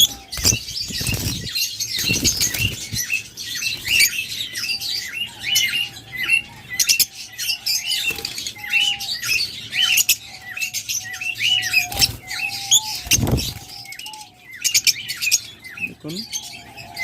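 Pet lovebirds, budgerigars, cockatiels and ghughu doves in a bird market make frequent close chirps and squawks, with repeated bursts of fluttering wings.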